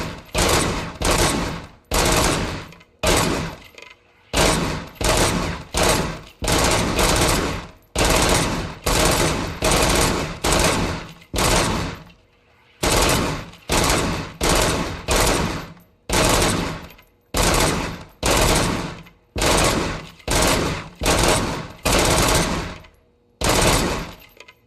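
Sustained automatic gunfire in Robocop Rogue City, loud, close bursts in rapid succession with only brief gaps and no reload pauses over the whole stretch.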